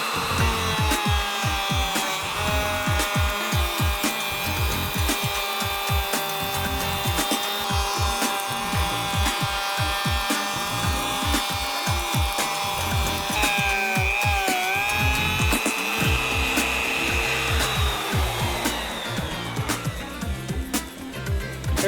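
A small wing cutter cuts a spline slot in the edge of a wooden gaming table topper, giving a continuous high whine over a rapid rhythmic rasp for about twenty seconds.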